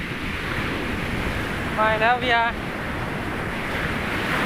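Steady broadband sea surf washes onto a beach with wind noise on the microphone, a continuous near roar, while a voice speaks briefly over it in the middle.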